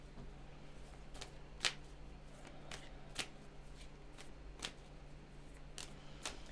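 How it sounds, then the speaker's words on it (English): Tarot cards shuffled by hand in a quiet room, faint soft riffling with a few sharper snapping flicks at roughly regular intervals, no talking. "Let's get one more shuffle."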